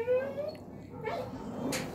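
A Goldendoodle mother whimpers for her puppies with a high, thin whine near the start, followed by a few softer whimpers and small yips at close range.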